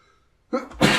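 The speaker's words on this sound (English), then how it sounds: "You just gotta sneeze." A single sneeze from a man, a short sharp intake followed by an explosive burst, close and loud after a near-silent start.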